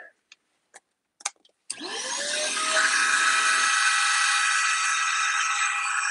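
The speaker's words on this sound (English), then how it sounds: "let's see, a little bit of vacuuming." A small vacuum cleaner starts up after a few clicks and whines loudly and steadily close by, cleaning a carved scenery piece for a model railway maintenance-of-way track.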